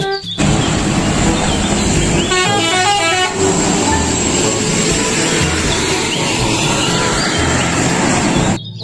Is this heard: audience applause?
no